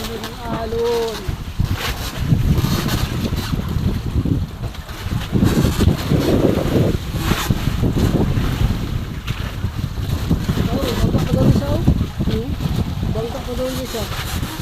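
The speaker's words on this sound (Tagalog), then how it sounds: "palalaki na ng alon." A fishing boat rides steadily growing waves at sea, with a constant wash of water and wind buffeting the microphone throughout, and voices talking intermittently over the roar.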